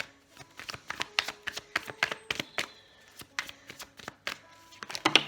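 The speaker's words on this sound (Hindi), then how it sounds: "मैं लाइव शफल कर रही हूँ आपके सामने" Tarot cards being shuffled by hand, a long run of quick, crisp slapping and tapping strokes in an uneven rhythm with short pauses. The sound is fairly close but quiet, with no talking.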